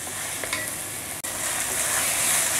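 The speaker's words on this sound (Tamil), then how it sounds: "வெங்காயம் இஞ்சி பூண்டு பேஸ்ட்லாம் நல்லா வதங்கிட்டே இருக்குது." Onion and ginger-garlic paste sautéing in a pan, a loud, close hissing sizzle with a few stirring scrapes and one brief sharp click midway.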